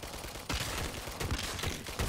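Rapid gunfire in the video game Nether, a dense burst of repeated shots with a few sharper cracks, loud and continuous through the short stretch.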